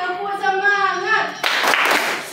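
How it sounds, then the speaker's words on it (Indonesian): A classroom of children clap together in a short burst of sharp, dense clapping right after a teacher's sung or chanted lead-in. "Yuk, 1, 2, 3, tepuk semangat."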